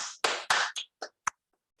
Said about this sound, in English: let's give Ramkumar a big round of applause